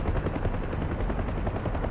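A Hind attack helicopter in a combat video game roars with a dense, steady rotor and engine drone, loud and continuous, with possible gunfire mixed in.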